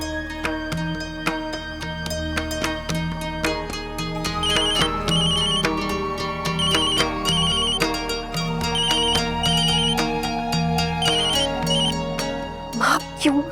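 A phone ringtone plays a repeating melodic pattern of bright chimes, ringing steadily and fairly loud for several cycles.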